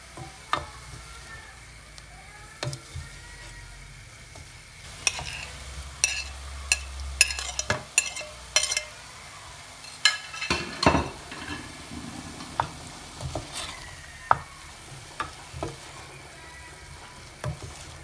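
A spoon scrapes and taps around a frying pan as food with salt gently sizzles, close and fairly quiet, with sporadic metallic clinks and scrapes and no talk.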